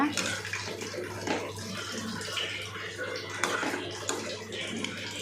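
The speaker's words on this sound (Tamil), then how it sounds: "கொஞ்சமாக தண்ணி நிறையா ஊற்றிடாதீங்க கொஞ்சமாக ஊற்றிக்கோங்க" A small amount of water pours steadily and softly into a cooking pan of bitter gourd for several seconds, a continuous splashing trickle with faint clinks and a steady low hum in the background.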